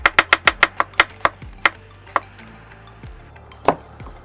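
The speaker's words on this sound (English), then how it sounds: "Let's go ahead and cut some onion." Onion being chopped with a knife on a cutting board: a quick run of about ten crisp, evenly spaced chops, then a few slower, scattered strokes, close and clear.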